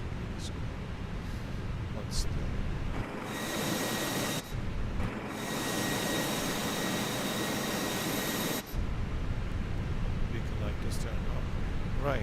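Simulated APU of a Fenix A320 running in Microsoft Flight Simulator, a steady broadband whine and rushing hum that shifts in level partway through, with a voice talking over it.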